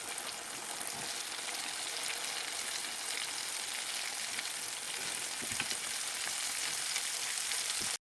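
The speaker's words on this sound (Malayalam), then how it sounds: "നമുക്ക് മാവിൽ മുക്കി വെച്ചിരിക്കുന്ന പീസുകൾ ഓരോന്നായിട്ട് നമുക്ക് ആ തിളച്ച എണ്ണയിലേക്ക് ഇട്ട് കൊടുക്കാം." Batter-dipped chicken pieces deep frying in hot boiling oil, a dense, continuous crackling sizzle held at an even level throughout, with no talk over it.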